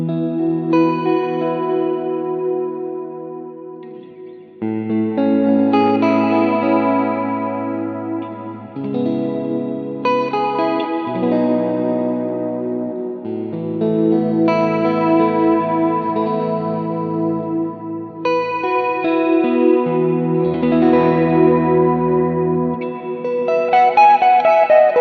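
Electric guitar on a GTRS model with neck and middle pickups combined, set to a 60s shred-style lead tone, playing a continuous run of sustained notes and chords with chorus-like shimmer and reverb, loud and alone without talk.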